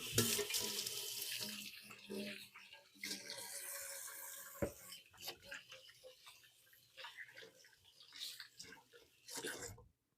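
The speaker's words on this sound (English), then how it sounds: "I'm gonna give my hands a quick rinse." Kitchen tap running as hands are rinsed, a splashing, gurgling water stream that rises and falls in bursts, close and moderately quiet, then the tap shuts off near the end.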